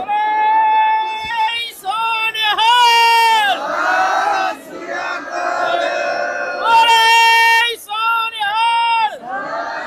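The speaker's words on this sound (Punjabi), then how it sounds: "ਸਤਿ ਸ੍ਰੀ ਅਕਾਲ ਦੀ ਗੂੰਜ ਜਿਹੜੀ ਹੈ ਉਹ ਸਾਰੇ ਪਾਸੇ ਨਜ਼ਰ ਆਂਦੀ ਪਈ" A large crowd at a gurdwara chanting the Sat Sri Akal jaikara, repeated loud, sustained group shouts rising and falling in waves, close and reverberant.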